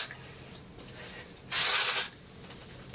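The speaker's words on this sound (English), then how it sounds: "just spray right here on the roots and just kind of lift a little bit" One steady half-second burst of Amika Perk Up dry shampoo aerosol sprayed at hair roots, a close, loud hiss over a quiet room.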